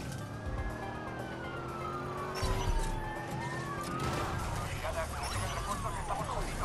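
A police car siren wails in the Watch Dogs video game, its rising and falling tone sweeping steadily over constant engine and traffic noise, with a louder burst midway and voices talking over it.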